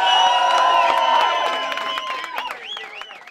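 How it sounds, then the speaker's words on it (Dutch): A carnival crowd cheers a newly presented princess, with loud shouting, whoops and clapping that gradually fade while a few high voices and whistles carry on. "Een heel groot applaus hier."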